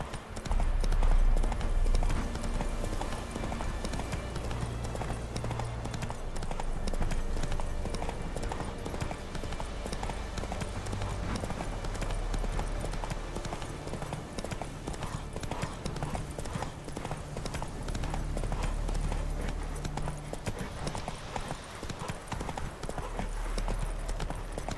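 Roach, a horse in The Witcher 3, gallops with a continuous fast rhythm of hoofbeats for the whole stretch, steady and mid-level beneath low game music and ambience.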